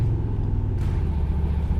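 A 1964 Corvette coupe, likely a 365-horsepower V8, idles with a deep, steady rumble through a loud but street-legal baffled side exhaust. The sound is close and continuous throughout.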